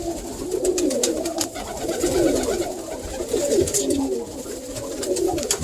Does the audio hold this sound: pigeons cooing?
yes